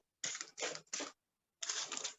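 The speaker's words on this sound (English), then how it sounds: "Let me give it a little bit more spray just to kind of assist in the flow." Spray bottle misting water onto a watercolor wolf painting, four short hissing bursts in two groups, close and fairly loud, with silence between them.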